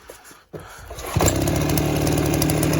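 Petrol engine of a potato sprayer catches after a brief pull-cord tug, then settles into a steady, loud, close idle drone that runs without a break to the end.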